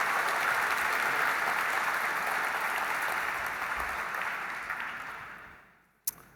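A large audience at an evening event applauds steadily, a dense wash of clapping that holds for several seconds, then fades away and ends with one sharp knock.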